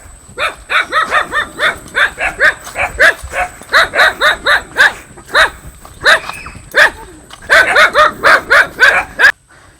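Pet dogs at a rural home bark in greeting, a rapid string of close, loud barks and yips in uneven bursts that fills the whole stretch with only brief gaps. No speech.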